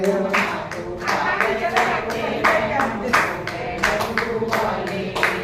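A crowd claps in steady rhythm at a devotional Shiva bhajan gathering, the dense hand claps sharp and close and repeating evenly while voices sing along underneath.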